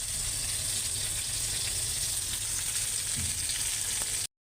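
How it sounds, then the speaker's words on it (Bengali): A steady, close sizzle of gulsha fish frying in oil, continuous and fairly loud with light crackling throughout, ending in sudden silence. "মাছ ধুয়ে মাছগুলি ভাজতে দিয়ে দিছি"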